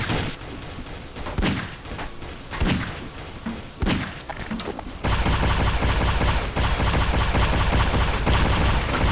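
Gunfire in Garry's Mod flood mode, several heavy booming shots in the first few seconds followed by a dense, continuous roar of rapid fire, loud and close, with no talking.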